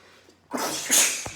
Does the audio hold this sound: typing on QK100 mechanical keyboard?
no